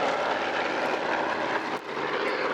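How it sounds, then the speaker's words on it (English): Tailwheel propeller aircraft taking off at the Cosford airshow, a steady broadband engine and propeller roar held close and loud throughout, with a brief dip near the end before it swells again. "as she took off, she's a tailwheel aircraft"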